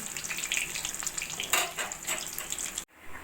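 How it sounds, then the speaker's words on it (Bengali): Stuffed pointed gourd (kakrol) fries in a pan with a close, crackling sizzle and brief stirring scrapes, cut off by a sudden drop near the end; no talk. "একটা একটা করে সবগুলো কাঁকরোল ভেজে নেবো"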